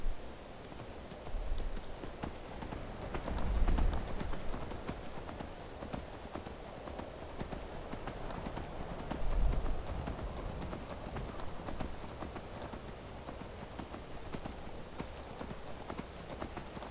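Horse hooves clip-clop at a steady walking rhythm in Skyrim, a continuous close clatter with two slightly louder bursts, with no talking.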